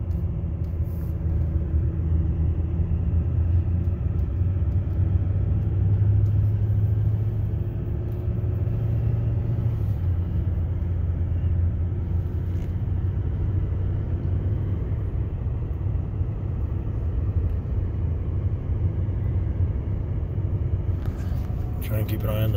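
A truck engine towing a trailer on a snowy road with malfunctioning gears, a steady low rumbling drone held close throughout, with a faint rattle near the end.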